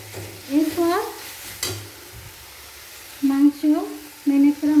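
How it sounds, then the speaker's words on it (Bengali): Marinated chicken stirred and fried in spice masala makes a soft sizzle with occasional scraping, interrupted by loud, voice-like tonal bursts near the start and end. "মশলার মধ্যে মাংস ভালোভাবে নাড়াচাড়া করে নেব"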